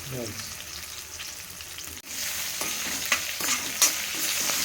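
Seasoning fries in hot oil with a steady sizzle, briefly interrupted and then resuming as stirring clinks and scrapes come through, close and moderately loud, with no voices.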